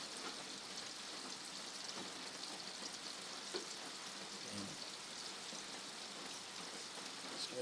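Daing na bangus, marinated milkfish, frying in a pan full of oil, giving a steady, dense sizzle and crackle with faint pops, close and continuous, with no voices.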